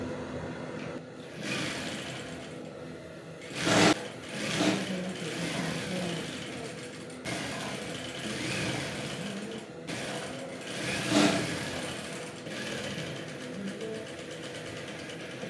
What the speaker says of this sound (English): So for the collar, we'll sew from here to here and to here using half an inch.